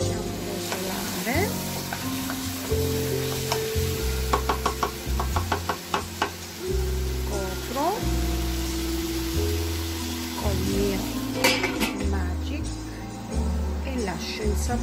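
Pumpkin soup ingredients sauté in a pot, a steady sizzle and frying crackle under clicks and knocks of stirring, while a person talks over the cooking.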